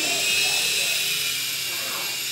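A remote control toy helicopter flies close by, its rotor giving a steady, high-pitched whirring buzz that holds without a break.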